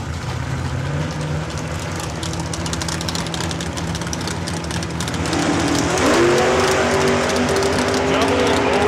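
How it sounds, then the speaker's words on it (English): A drag racing car launches at full throttle at Saskatchewan International Raceway during a test and tune session. A loud, sustained engine roar rises sharply about two thirds of the way through, with a commentator's voice running over it. "What a great hit of the throttle"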